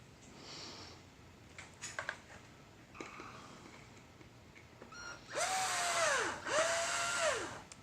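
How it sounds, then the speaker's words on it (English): Quiet shuffling and clicks, then a power drill whirs up in two short bursts, winding up and back down as it drives a screw. "So I'm going to put a screw in. Grab my drill."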